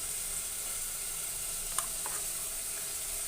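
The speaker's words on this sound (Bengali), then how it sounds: "মাছগুলো কষানো হয়ে আসছে" Tengra fish sautéing in a pan, a soft, even sizzle running throughout with one brief clink partway through.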